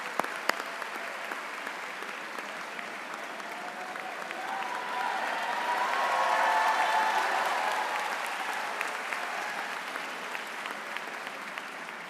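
A large graduation crowd applauds for a student, a broad, distant-sounding wash of clapping that swells to a peak midway and then slowly eases, with faint cheers mixed in.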